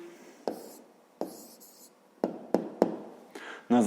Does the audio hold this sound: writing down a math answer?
yes